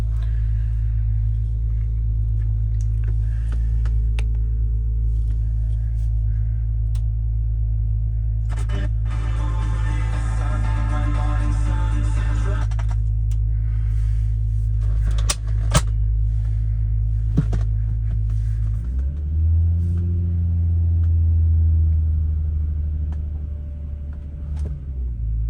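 A 1993 Volkswagen Corrado SLC VR6 engine idles steadily on a mild 50-degree cold start, a continuous low drone with a brief higher mechanical whir midway and a deeper shift in tone near the end.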